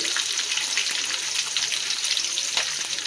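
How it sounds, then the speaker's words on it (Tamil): Peanuts frying in a pan for lemon rice give a steady, close crackling sizzle. The texture stays dense and even with faint bubbling and no voices. "நல்லா கலந்து நல்லா பொரிஞ்சின்னு இருக்குது"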